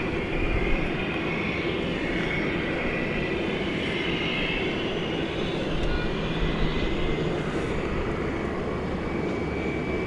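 Airliner in American Airlines' Allegheny heritage livery passing at a busy airport, a steady broad jet roar that holds loud and even throughout with no voices.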